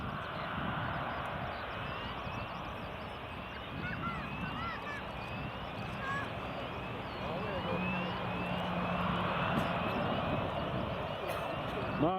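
Aircraft landing at Glasgow Prestwick Airport, heard as a steady, broad engine roar that holds level and swells slightly toward the end, with people talking over it throughout.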